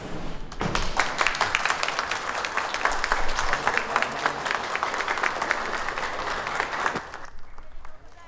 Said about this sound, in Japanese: 副知事や部局長などが拍手で出迎えました